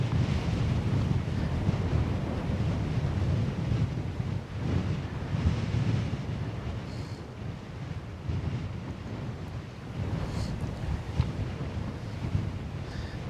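Steady wind buffeting the microphone on a salmon river bank, a continuous low roar with gusts swelling and easing throughout, no voices.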